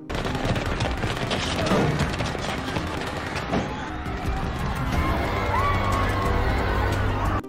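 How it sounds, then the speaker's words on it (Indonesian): Dense, chaotic bursts of gunfire crackle through a loud, busy film scene, with shouting voices and commotion mixed in throughout. "Terdengar tembakan dan teriakan dari bawah."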